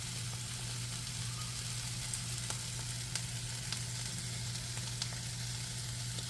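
Eggs sizzling in a hot pan for a quick breakfast, a steady close crackle and hiss with scattered sharp pops throughout, no voices.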